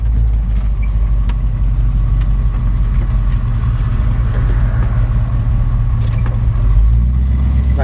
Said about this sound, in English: Nice sounding engine. We'll leave it running for just a second.